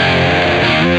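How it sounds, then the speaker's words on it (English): Overdrive mode of a Beetronics Zzombee Filtremulator pedal on electric guitar, a sustained, densely harmonic driven chord ringing steadily for about a second with no talking. "let's go ahead and hear the overdrive at face value"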